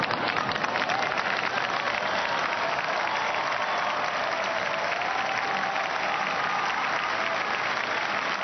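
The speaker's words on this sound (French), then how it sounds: "Vous voyez la foule qui acclame le Saint-Père Benoît XVI" Large outdoor crowd cheering and applauding Pope Benedict XVI at the Palatine Hill terrace during the Way of the Cross, a dense, steady roar of clapping and voices sustained throughout.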